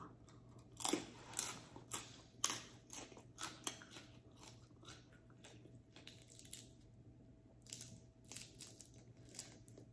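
Crunchy fried pork skin is bitten and chewed up close, giving a series of crisp crunches that start loud and soften into quieter irregular chewing.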